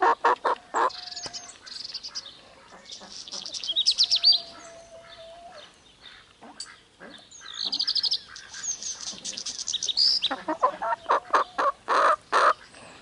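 Backyard chickens make busy vocal sounds, with repeated short clucks and higher squawks and calls in bursts. The sounds are close and fairly loud and come and go over the whole stretch without talking.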